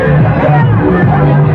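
A crowd of supporters cheers and chatters loudly at a victory walk in Benin City, a dense close hubbub of voices with no single speaker standing out.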